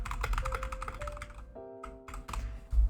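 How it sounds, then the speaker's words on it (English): Rapid typing on a computer keyboard, a quick close run of clicking keystrokes with a brief pause and a final heavier key press. "Just type in this."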